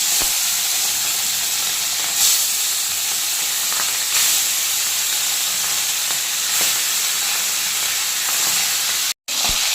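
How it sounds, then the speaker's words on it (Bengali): Hilsa fish frying in hot oil in a wok, a loud, steady broadband sizzle that continues throughout with brief louder bursts, close by, with no talking. "দেখো তেলটা গরম হয়ে গেছে, এখন আমি ইলিশ মাছগুলো দিয়ে দেবো।"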